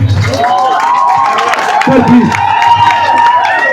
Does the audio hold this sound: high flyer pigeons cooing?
no